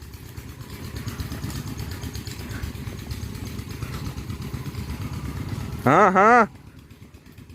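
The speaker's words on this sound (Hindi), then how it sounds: "लड़का जी सीख रहा है जी चलानी बाइक" A motorcycle engine runs steadily as a boy learns to ride, a low continuous idle under the whole stretch, with a brief loud tonal burst near the end; someone speaks briefly.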